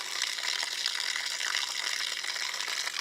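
Water hisses and sprays steadily out the side of a faucet cracked over winter, fed by a 12-volt RV pump in an off-grid cabin; a constant, close, bright rush with no pauses.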